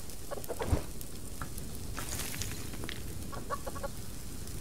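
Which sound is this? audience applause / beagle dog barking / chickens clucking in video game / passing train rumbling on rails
chickens clucking in video game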